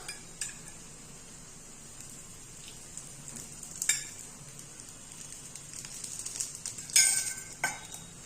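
Paniyaram sizzles in oil on a low flame, a soft steady fry under occasional clinks of a utensil against the pan, with no talk.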